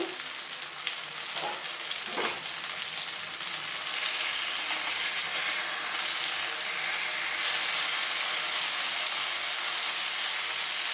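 Masala-coated fish sizzles steadily in a pan over a low flame, a continuous even crackle with a few soft scraping stirs near the start.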